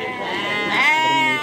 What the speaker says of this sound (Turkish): Koç koyunlarım.